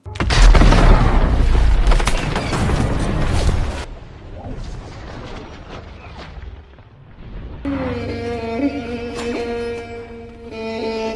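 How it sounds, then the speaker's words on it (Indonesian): A landmine explodes in a Sherlock Holmes film scene, a loud booming blast with a long rumbling roar for several seconds, then settling into quieter debris and ambience before music-like tones enter. "Watson pun tak sengaja menginjak ranjau yang membuat mereka bertiga harus terkena ledakan"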